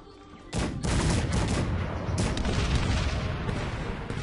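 A dense, booming fusillade of musket volleys rolls on continuously in the strategy game Cossacks 3, loud and sustained after a quieter opening with no voices.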